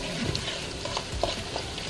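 Pork sautés in a pan, sizzling steadily with soft scraping and stirring clatter from large chopsticks, close up and moderately loud throughout.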